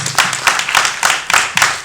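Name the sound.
audience round of applause for Minji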